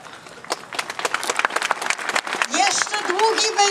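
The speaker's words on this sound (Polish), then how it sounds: "Nie klaszczmy jeszcze teraz." A crowd at an outdoor memorial march for the Cursed Soldiers in Lublin breaks into scattered, fairly close clapping, which gives way after a couple of seconds to a speaker's amplified voice.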